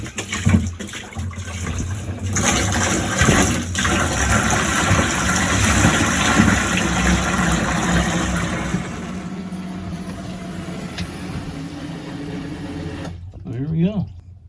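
A hot water shower pump aboard a sailboat runs as a steady mechanical hum with a watery, buzzing drone, holding fairly loud for several seconds before easing back and falling silent near the end.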